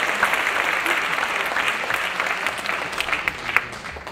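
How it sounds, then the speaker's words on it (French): Audience applause after a French-language coaching talk: steady, dense clapping from a room full of people, sustained for several seconds at an even level without letting up. "Je pense qu'on peut l'applaudir s'il vous plaît."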